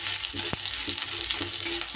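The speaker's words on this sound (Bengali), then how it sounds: "এবার তেলের মধ্যে আমি দিয়ে দিচ্ছি খুব সামান্য পরিমাণ একটু গ্রেট করা আদা।" Grated ginger and chopped green chilli sizzle in a little hot oil, a steady frying hiss with a few sharp stirring clicks and spatter pops, close and alone.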